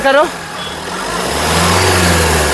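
The engine of a 2014 Mahindra XUV500 W8 revs up close by, rising from a short voice at the start into a steady, loud, building engine roar.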